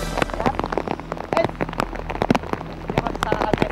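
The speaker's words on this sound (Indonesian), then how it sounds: "apalagi hujan seperti ini" Heavy rain pours outdoors, with dense, irregular drops striking a nearby surface in loud, close patters over a steady wet background.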